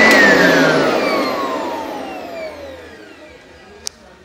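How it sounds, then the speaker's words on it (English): A Sanitaire SC899 commercial upright vacuum cleaner winds down after being switched off, its loud motor whine sliding steadily lower in pitch and fading over several seconds, ending with a single faint click. "that's how you start the vacuum and shut it off. But I'll turn it on for you one more time."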